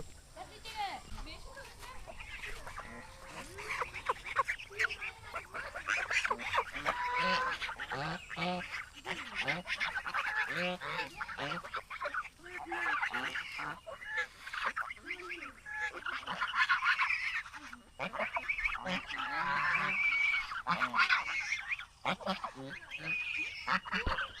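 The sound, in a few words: ducks in a village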